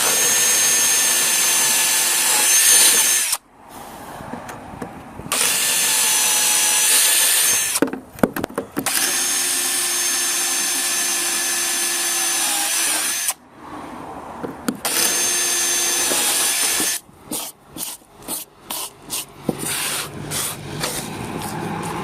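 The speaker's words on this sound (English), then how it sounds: "I'm just going to drill them out and get back to some clean fiberglass" A loud power drill grinds steadily into a fiberglass boat in long runs separated by brief pauses, ending in a series of quick, stuttering bursts.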